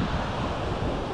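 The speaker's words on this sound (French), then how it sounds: "Les vagues sont pas trop grosses non plus." Sea waves wash onto a beach under an onshore wind, with a steady, dense hiss of surf and foam mixed with wind buffeting, brief and fairly quiet.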